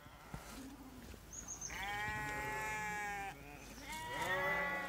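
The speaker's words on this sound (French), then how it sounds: "Les moutons me font me sentir bien." Sheep in a farm flock, some freshly shorn, bleat repeatedly and close by, with several loud, drawn-out cries overlapping one another and no talking.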